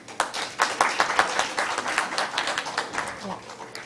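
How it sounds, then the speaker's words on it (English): A small conference audience applauds a keynote speaker, with distinct individual claps close to the microphone forming an irregular patter that swells early and then gradually thins out. "A big round of applause to sir."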